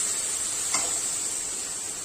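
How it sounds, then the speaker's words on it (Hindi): Chopped tomato frying in a pan with long beans (barbatti) and potato, a steady soft sizzle with a brief stir partway through, alone and fairly quiet. "इसे भी अच्छे तरीके से भून लेंगे हम टमाटर को।"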